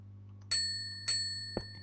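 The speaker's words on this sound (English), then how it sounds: "Service bell?" Two bright metallic dings from a service bell in a Minecraft city build, evenly spaced with ringing tails, followed by a soft thump.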